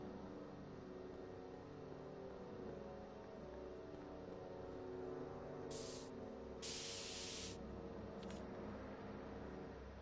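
A spray paint can hisses steadily in Telltale's Back to the Future game, a constant faint spray with a few short sharper bursts near the end, alone without talk.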